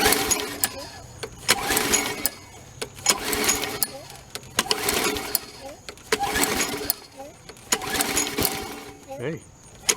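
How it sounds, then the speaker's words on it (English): A Sears Craftsman 22-inch Series 650 lawn mower is pull-started repeatedly, giving about five loud, rhythmic bursts of cranking engine sputter separated by short pauses. "attempt to start with a Sears Craftsman fresh from Craigslist find here"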